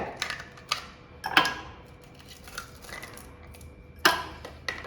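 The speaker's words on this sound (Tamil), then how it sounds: "இதில் வந்து 2-3 ஐஸ் க்யூப்ஸ் போட்டுக்கோங்க." Two or three ice cubes drop into a glass of thick homemade mango squash, giving several sharp, close clinks and taps spaced irregularly over a quiet kitchen background.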